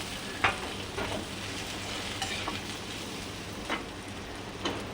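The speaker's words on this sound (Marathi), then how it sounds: "आता आपली भाजलेली भेंडी मी त्याच्यात ॲड करणार आहे. ती ॲड करून ती थोडीशी मिक्स करून घ्या." Roasted okra stirred and mixed with spices in a pan, soft continuous frying hiss with a few sharp scraping clicks of the spoon against the pan, no talking.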